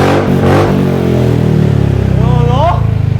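A motorcycle fitted with an aftermarket Villain exhaust revs loud and throaty with a deep rumbling exhaust, the pitch sweeping down then climbing again as it idles roughly.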